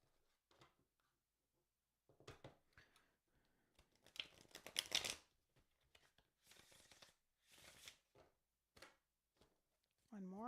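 Cards being shuffled in a few rapid, crackling bursts with pauses between, close and fairly quiet.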